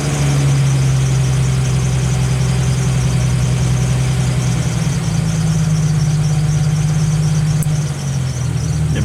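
A Jeep Wrangler YJ engine idles steadily at an rpm set by a hand throttle, a loud, close, even hum with a slight dip in pitch partway through.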